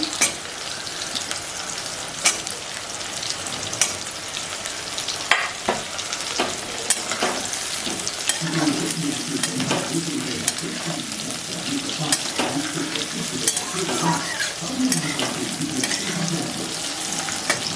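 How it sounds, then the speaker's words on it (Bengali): Onion and potato frying together in a pan for an ol (elephant foot yam) and potato curry, with a continuous near sizzle, repeated stirring clicks and scrapes, and a brief watery splash partway through. "দেখো এতে আমি আলুটাও দিয়ে ভেজে নিচ্ছি"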